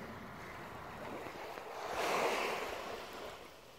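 Small waves lapping in a quiet cove, a faint soft wash of water that swells to a gentle peak and recedes, with light wind and no voices.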